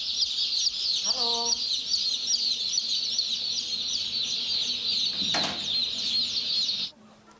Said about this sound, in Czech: Ty slepice jsou hrozný, všechno rozhrabou.